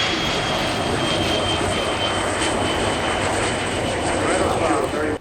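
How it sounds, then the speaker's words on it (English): Sukhoi Su-22 M4K Fitter jets of the Polish Air Force at the Royal International Air Tattoo airshow, a loud continuous jet engine roar sustained throughout, with a public-address announcer talking under it. "the two Sukhoi Su-22 M4K fitters of the Polish Air Force from the 40th Tactical Squadron at Slitlin"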